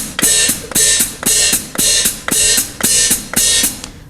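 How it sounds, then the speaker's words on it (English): A drum kit hi-hat is played with a toe-heel splash, the heel crashing the cymbals open and the toe closing them, giving eight evenly spaced, bright, sizzling hits about every half second, close and loud. "This is something called the toe-heel splash technique."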